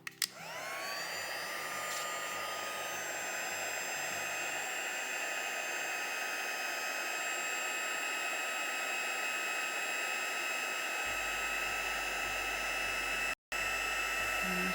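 An electric heat tool blows hot air to melt embossing powder for an Aussie beach scene craft card, a loud steady whirring whoosh that starts abruptly and runs continuously, cutting out briefly near the end.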